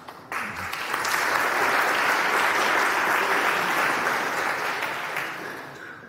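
Audience applause from a crowd at a quantum computing talk, starting abruptly and holding steady as dense, sustained clapping before tapering slightly near the end.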